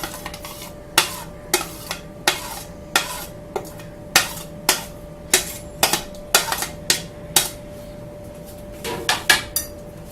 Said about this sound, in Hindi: बहुत अच्छी तरह मिक्स कर लें इनको।